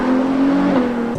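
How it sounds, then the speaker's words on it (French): A Ferrari 812 GTS with its 6.5-litre naturally aspirated V12 holds a loud, steady, close engine drone at constant revs, its pitch dipping slightly near the end. "Avec ce V12 6 litres 5 qui est merveilleux. Un V12 atmosphérique de 800 chevaux."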